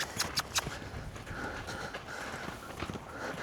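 Horse loping in an outdoor training session, hoofbeats falling in a quick rhythmic series of dull thuds, close and moderately loud with faint breathing between strides.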